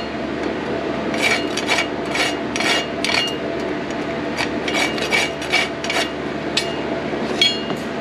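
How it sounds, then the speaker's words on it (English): A hot rasp files the clip of a horseshoe at the horn in a run of short, gritty strokes with uneven rhythm, close and fairly loud against a low background hum, with no talking. "you just grab an old, like a hot rasp, you just come up here on the horn, and then you go rasp behind it"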